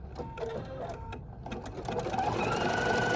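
An embroidery sewing machine stitches a positioning outline for a foam layer in a 3D font project, its needle running in a fast, steady mechanical chatter that grows louder and busier toward the end, close and alone without talk.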